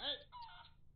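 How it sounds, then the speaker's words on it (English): A chicken in the video game Barn Finders gives a short, loud clucking squawk with a couple of quick follow-up notes, standing alone against quiet. "That chicken is super loud."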